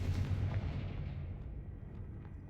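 A Confringo spell blast in Hogwarts Legacy lands as a deep, rumbling explosive boom that fades out over a couple of seconds.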